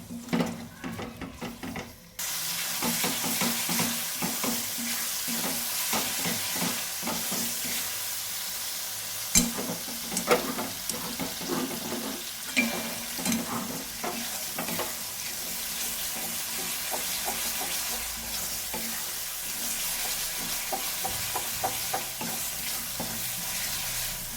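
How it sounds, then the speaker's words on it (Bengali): Masala is stir-fried in oil until the oil separates, with a continuous loud sizzle and repeated scraping stirs against the pan, up close and without talk. "খুব ভালোভাবে মশলাটাকে কষিয়ে নিতে হবে যতক্ষণ না মশলার তেল ভেসে আসছে ততক্ষণ পর্যন্ত কষাতে হবে"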